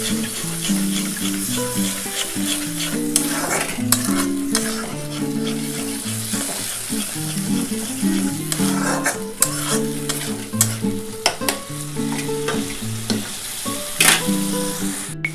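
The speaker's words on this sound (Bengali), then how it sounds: "একটু জল দিয়ে আমি মশলাটা একটু কষাবো।" Masala for dhaba-style egg curry frying with a splash of water in a pan, sizzling steadily while a spoon stirs it close by in repeated scraping strokes, with no talk.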